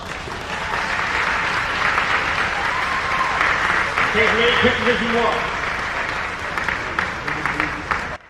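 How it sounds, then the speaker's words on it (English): An audience at a sports TV awards ceremony applauds the Jefferson High School state champions. Sustained, fairly close clapping runs throughout, with a voice speaking over it partway through. "give them a round of applause"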